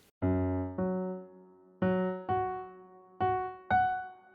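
Six piano octaves struck in uneven pairs, each chord ringing briefly before a clear gap of silence breaks the line.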